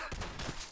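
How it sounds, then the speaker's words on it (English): Several quick gunshots ring out in Fallout 4 VR as a raider is shot in the head, landing in a tight burst of sharp cracks at moderate volume with no talking. "Watch what happens when I shoot him in the head."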